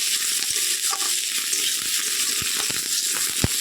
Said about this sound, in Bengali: পেঁয়াজ রসুনের সাথে টমেটোটা একটু ভালো করে ভেজে নেব